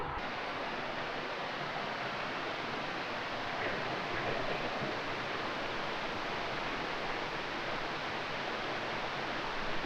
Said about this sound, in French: là c'est la cascade du moulin